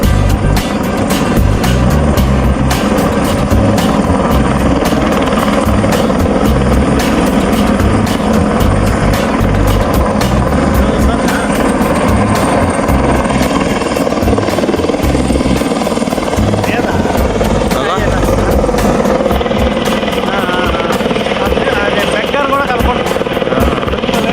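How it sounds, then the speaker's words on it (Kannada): Survey drone flying overhead in an open area, a steady loud rotor drone with constant buzzing that holds throughout amid outdoor noise. "ಇಲ್ಲಿ ಡ್ರೋನ್ ಸರ್ವೆ ಒಂದು ಆಗ್ತಿದೆ"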